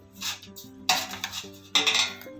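Spoon clinking and scraping against a bowl while turmeric, sugar, chili powder and salt are mixed together, in three short bursts of close clatter over a faint low hum.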